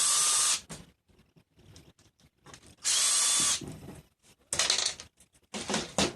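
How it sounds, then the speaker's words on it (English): A cordless drill set to low torque whirs in several short bursts separated by pauses, removing screws from a Dell Precision T3400 computer, with small clicks and rattles of screws and metal between runs. "Make sure I adjust my torque setting to about the lowest torque I possibly set this drill."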